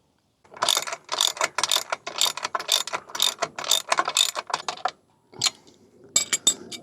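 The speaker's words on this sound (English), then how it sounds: "you're going to slide this rack back till you hit that stop, like that, and then tighten it up" Electric two-bike hitch rack for e-bikes, with ramp, slid into place and tightened: a rapid series of about nine sharp ratcheting clicks in steady rhythm, close and fairly loud, then a pause and a few scattered clicks and metal knocks.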